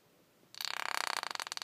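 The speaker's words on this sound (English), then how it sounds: "Okay, that was the sound of the chocolate" A short, rough sputtering squelch starts abruptly, a fast buzzy rattle of thick chocolate from a Meiji Apollo chocolate-making kit being squeezed from a piping bag, close and fairly loud.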